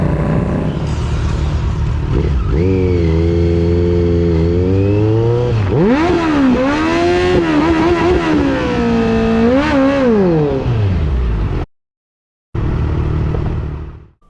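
A nearby motorcycle idles loudly, then its engine is revved several times, the pitch climbing and falling in waves, followed by a sudden brief dropout.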